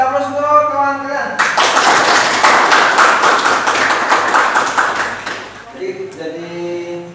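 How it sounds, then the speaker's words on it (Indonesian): Classroom students clapping for a classmate, a burst of dense, close applause lasting a few seconds before fading, with a voice speaking before and after. "Kasih aplaus untuk kawan kalian."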